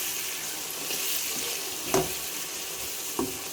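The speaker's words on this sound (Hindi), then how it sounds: "चार से 5 मिनट तक मैं इसकी अच्छे से भुनाई करूँगी।" An onion-tomato masala with coriander powder, salt and red chilli sizzles steadily in a pan for masala bhindi, a continuous close frying hiss broken by two brief clinks of a stirring spoon.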